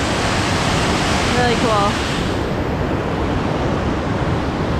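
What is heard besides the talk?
waterfall seen from the top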